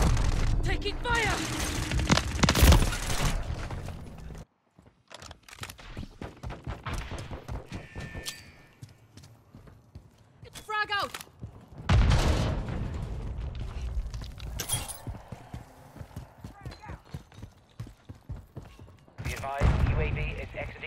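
Call of Duty multiplayer match with bursts of gunfire, booms and mechanical clatter, broken by quiet gaps, while in-game voices shout callouts over the action.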